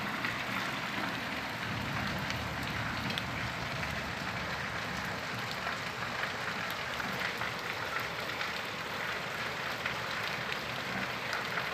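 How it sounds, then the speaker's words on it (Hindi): Heavy rain pours steadily near a home with a tulsi plant, a dense unbroken hiss across the whole span with no voices over it. "पहले आप बारिश देख लीजिए, कितनी ज़्यादा बारिश हो रही है।"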